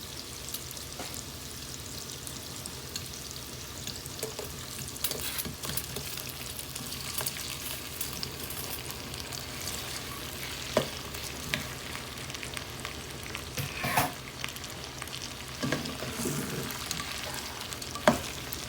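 Shrimp frying in spicy garlic butter in a pan, with a soft, continuous sizzle broken by occasional clicks and scrapes of stirring, fairly quiet and close, with no voices.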